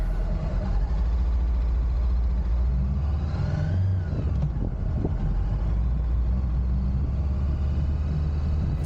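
A Honda CBR500R motorcycle pulls away from Lake Ballinger, its steady low engine rumble continuous and fairly loud throughout, with a brief swell in the middle as it gets underway.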